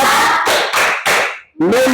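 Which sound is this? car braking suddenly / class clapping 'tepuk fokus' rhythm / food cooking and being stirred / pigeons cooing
class clapping 'tepuk fokus' rhythm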